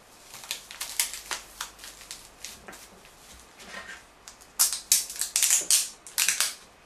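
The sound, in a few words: packing tape wrapped around a cup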